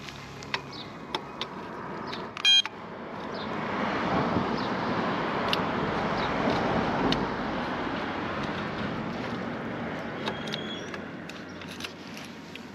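A motorcycle's brake disc lock alarm gives one short, loud electronic confirmation beep near the start, followed by a quiet, steady outdoor rumble with faint clicks.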